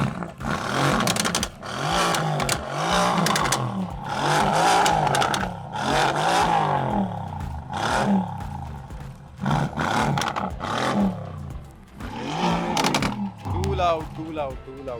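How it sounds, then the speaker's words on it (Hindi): A Mercedes-AMG GT with a 4.4-litre V8 revs hard in loud, repeated bursts of roaring engine noise. Between the blips a crowd of people talks around the car. "This is the power of V4 engine"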